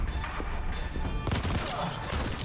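Automatic rifle fire in the video game Voidtrain, a dense, steady fusillade of rapid shots that runs unbroken, loud and close throughout.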